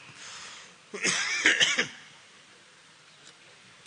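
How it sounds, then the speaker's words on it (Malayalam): A speaker with a cold coughs and clears his throat in a short burst of several harsh close coughs, set between quiet stretches of near silence. "ക്ഷമിക്കണം ഒരു ചെറിയൊരു ഒരു ചുമയും ജലദോഷമുണ്ട്"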